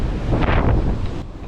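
Gale-force gusts of 40 to 50 knots roar across the open Atlantic Ocean during a doublehanded sailing race, a loud buffeting wind that swells and dips over a short stretch.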